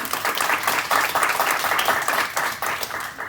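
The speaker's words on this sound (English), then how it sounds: "I think it deserves a big round of applause that you embarked on this in the first place." A panel audience breaks into a sustained round of applause, dense steady clapping from many hands at close range that tapers slightly toward the end, with no talking over it.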